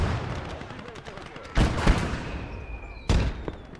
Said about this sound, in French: Il y a un petit échange de grenades derrière le bosquet